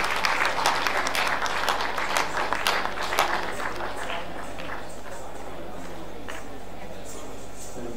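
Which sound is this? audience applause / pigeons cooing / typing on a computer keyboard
audience applause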